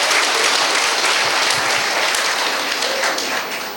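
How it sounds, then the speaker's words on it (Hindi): Loud, sustained applause from a lecture audience on stress management, dense clapping filling the whole stretch before tapering slightly at the end. "जोर से तालियां बजाइए"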